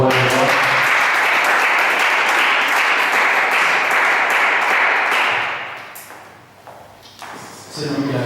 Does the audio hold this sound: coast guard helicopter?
no